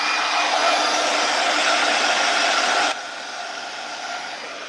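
A hair dryer blows steadily on freshly sprayed brown and rust-colored spray paint, a loud, even broadband whoosh that drops to a lower, quieter setting partway through and keeps running alone.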